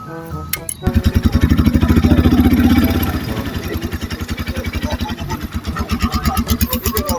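A Motorstar motorcycle engine idles steadily close by after a brief start, a throbbing, even mid-pitched putter with a slight rise in the first seconds and no talking over it.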